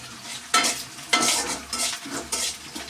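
Vegetable curry fries in a kadai wok, with a steady sizzle broken by about five rhythmic bursts of spatula stirring, close and clear with no voices.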